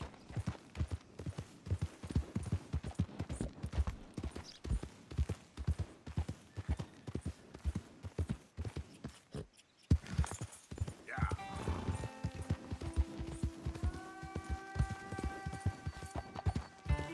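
Horse hooves clip-clopping in Red Dead Redemption 2, a steady galloping beat at close range that runs throughout, broken by a brief pause, with a horse whinny and other game sounds coming in near the end.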